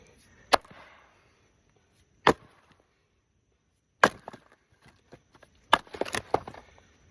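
A sledgehammer hammers a steel wedge into a wood log to split it, wood-splitting in a yard. Sharp loud separate strikes come at uneven intervals, followed near the end by a cluster of quicker cracks and splintering knocks.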